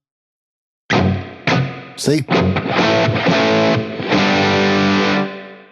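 Electric guitar played through a Wampler Catacombs delay/reverb pedal with the reverb tone turned down for a darker sound, sustained chords ringing with a reverb tail, loud and close, after a brief spoken word.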